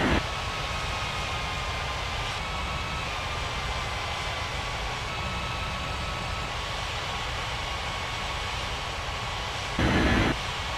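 Continuous roar of an Air India airliner's jet engines during takeoff in an air traffic control simulation game, a steady broadband rumble lasting throughout with a brief louder burst near the end, with no talking.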